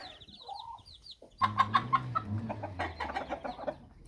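Several bantam hens cluck in short, bursty calls close by, with a low rooster-like call running underneath and a few brief chirps early on.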